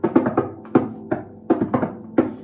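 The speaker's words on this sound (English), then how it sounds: "And many, many times we're also asked to be a drum." Harp struck like a drum, a series of sharp percussive thumps in an uneven rhythm, some in quick pairs, each decaying quickly, close and moderately loud with no talking.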